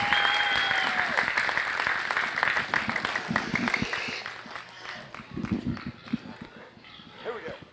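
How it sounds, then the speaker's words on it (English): A crowd applauds at a junior market barrow show at the San Angelo Stock Show. The clapping is loud and sustained at first, then tapers off while voices and a few scattered claps and knocks carry on. "One more round of applause."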